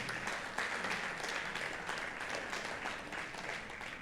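A congregation at a Sunday church service claps in steady applause, a dense patter of many hands heard from a little distance, fairly quiet throughout.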